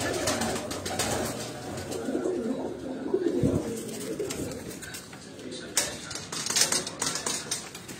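Soft cooing of flying pigeons repeats in the background amid a busy outdoor murmur, with faint voices and clatter mixed in.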